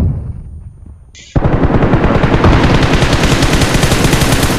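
Gunfire from the battle-royale game PUBG bursts in after a brief quiet, turning into loud, rapid automatic shots that hammer on without pause.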